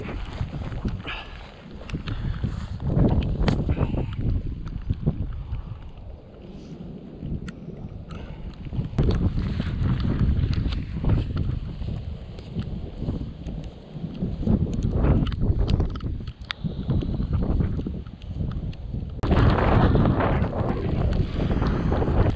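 Blustery wind on a hill crest buffets the microphone in rumbling gusts that rise and fall, with rustling and scuffing noises throughout.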